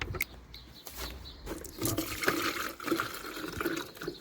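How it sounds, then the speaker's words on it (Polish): Water is poured from a bottle into rabbit drinkers, a continuous splashing and gurgling that rises and falls over several seconds, close and fairly loud. "No tutaj lejemy wam tutaj wody. Do poidełek."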